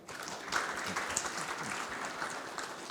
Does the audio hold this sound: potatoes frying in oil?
no